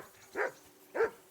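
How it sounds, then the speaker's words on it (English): Two short, moderately close dog barks spaced about half a second apart in the video game Kingdom Come: Deliverance 2, with no talking over them. "I assume you can hear that damn dog of yours barking"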